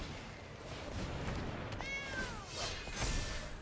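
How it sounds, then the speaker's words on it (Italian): A faint cat meow rises and falls over low background hiss, with a couple of soft, drawn-out calls and no talking. "Miagola, ma non è così dolce."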